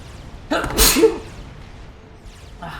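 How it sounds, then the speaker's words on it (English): A single sharp sneeze from someone commentating a long Forged Alliance Forever game, bursting out loudly and close, then fading to quiet room noise. "I have to sneeze"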